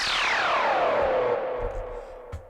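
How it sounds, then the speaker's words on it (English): Speed garage sound effect with an echo delay: a single bright sweeping tone slides steadily downward in pitch and fades into a trailing tail, heard alone. "But then what I've done is added a delay."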